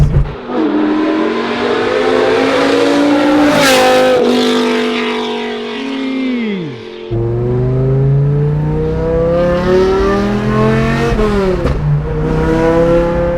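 A BMW E46 M3 swapped with an S85 V10 revs and howls up around 4,000 RPM, loud and close, climbing and falling through the range with a brief lift in the middle before pulling hard again.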